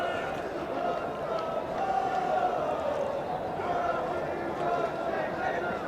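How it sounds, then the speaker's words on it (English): A cricket crowd at a T20 match between Derbyshire Falcons and Birmingham Bears sings a song, a sustained, distant chant under close commentary. "At least the crowd's still singing."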